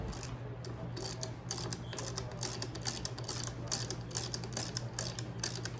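A hand ratchet fitted with a 3/16 socket turns while assembling a bow part, giving rapid, regular clicking pawl ticks over a low steady hum, close and continuous.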